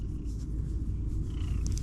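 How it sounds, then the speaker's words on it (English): A steady low cat purr rumbles close by throughout, soft and continuous, with a faint high chirp near the end. "He's purring."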